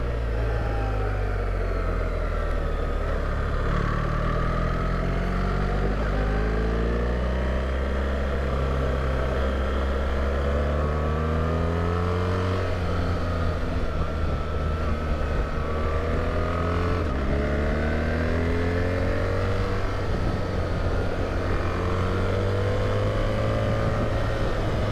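A BMW R1300GS motorcycle engine drones steadily while being ridden on a bumpy road, its revs rising and falling in smooth sweeps, close and continuous for the whole stretch with no talking.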